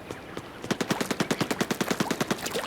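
The Splattershot ink gun fires in Splatoon 3, a rapid, even burst of about twenty quick shots in a row, moderately loud and heard alone without speech.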